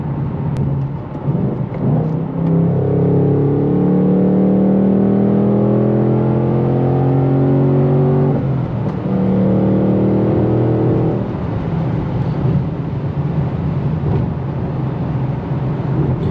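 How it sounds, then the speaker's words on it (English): A Ford Mustang Dark Horse engine revs and drops through downshifts, heard from inside the cabin with the windows up: a loud, steady, throaty drone with rising and falling pitch and a brief break near the middle, with no talking. "let's go ahead and get a couple downshifts here and show you guys how she sounds from inside with the windows up"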